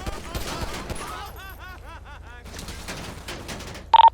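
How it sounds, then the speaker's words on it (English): Rapid bursts of gunfire in the GTA V game, set in Blaine County, crackle in quick fusillades amid wavering siren-like tones, with a brief loud burst near the end and a voice faintly present in the mix. "1 David 10, shots fired."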